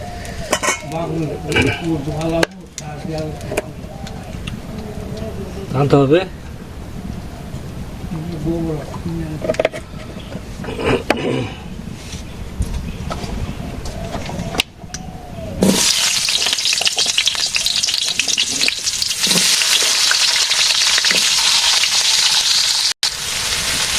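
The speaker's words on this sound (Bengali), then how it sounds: "মাছ ভাজি হচ্ছে" Fish sizzles steadily in a hot pan in a village kitchen, a loud broad hiss filling the second half after a stretch of nearby talking and clinking of pots.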